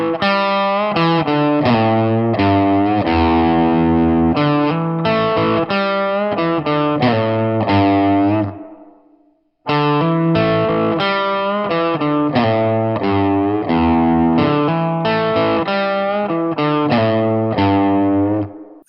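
An electric guitar with a distorted tone plays a classic rock riff slowly. Chords and notes ring out loud and close in two passes, separated by a brief pause, with no speech.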